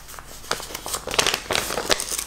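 A paper envelope received in the mail is handled and crinkled, giving a close run of dry rustles and crackles with a few sharper crisp bursts.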